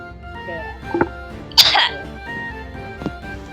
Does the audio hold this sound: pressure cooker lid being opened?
no